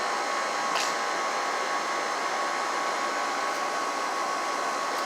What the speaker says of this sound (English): Oh nope, this fan motor just cut back off.